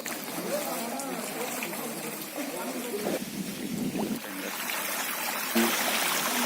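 Chennai flood water flows in a steady rushing wash, with someone speaking over it for much of the time.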